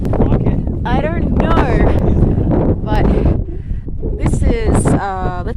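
Cold, strong wind on the summit of Mount Wellington in Tasmania roars and buffets the microphone in a loud continuous rumble, with people talking over it throughout.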